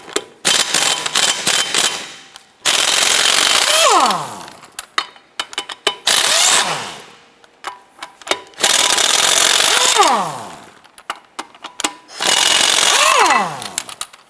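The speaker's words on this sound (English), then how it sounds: "you can use a 22mm socket with your impact gun." An impact gun fitted with a 22mm socket hammers off the lug nuts on a 2007-2012 Nissan Versa in four loud, rattling bursts, each winding down with a falling whir, separated by short clicks and handling noises.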